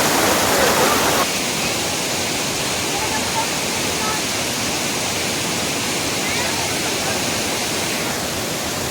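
Water pours steadily at Harkul Dam in the Konkan, a dense, continuous roar of rushing flow that stays loud and even throughout, with a slightly brighter burst at the very start.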